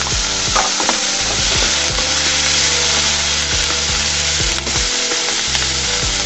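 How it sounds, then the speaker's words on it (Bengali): Onion stalks frying in oil in a pan for an egg and eggplant dish, giving a loud, steady sizzle throughout with occasional scraping stirs and clicks of a utensil against the pan. "পেঁয়াজ কলিগুলোকেও আমি ভেজে নিব"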